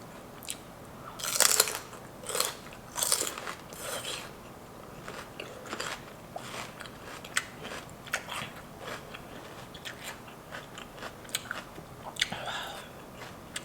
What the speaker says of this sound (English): That's a real crunchy noise.